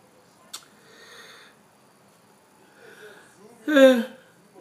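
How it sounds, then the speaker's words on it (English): A person yawns close to the microphone during a live chat stream: soft breathy sounds first, then one louder, voiced, wheezy yawn near the end. "sorry about the yawn"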